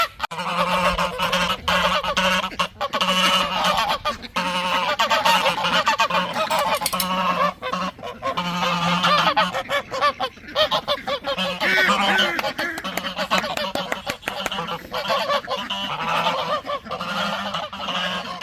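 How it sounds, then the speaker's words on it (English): Ducks at feeding time call out close by in a loud, almost unbroken chorus of honking quacks on an overcast day. "Hey, duckies!"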